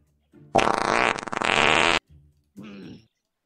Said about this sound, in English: I'm gonna play the fart noise to get him back here